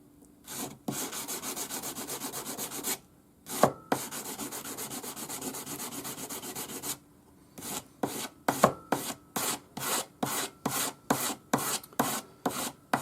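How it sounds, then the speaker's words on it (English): Sanding a soldered join on a wide domed patterned ring gives a raspy scratching, first in long continuous passes, then in quick rhythmic strokes that repeat steadily, close up and alone. "it won't take much sanding to tidy it up"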